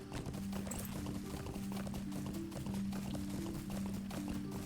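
Horse hooves clip-clop at a steady trotting rhythm in The Lord of the Rings Online, sounding close and clear over continuous game music.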